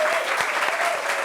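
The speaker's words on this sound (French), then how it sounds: "On applaudit pour elle, s'il vous plaît." An audience claps for a guest arriving on a French television talk show, a dense and steady burst of applause filling the room with no break.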